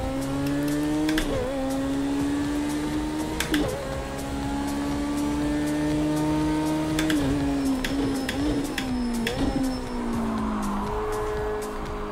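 In the racing game Project Cars 2, a car's engine drones steadily while the tyres skid and squeal through repeated corners in short bursts, with faint clicks over the continuous hum.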